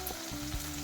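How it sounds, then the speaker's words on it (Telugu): Turmeric goes into a hot tempering for a cabbage and moong dal fry, and the oil gives a steady, close, loud sizzle with a brief stirring scrape. "ఇప్పుడు కొద్దిగా పసుపు వేసుకొని, తాలింపులో పసుపు వేసుకుంటే చాలా కలర్ఫుల్గా బాగా"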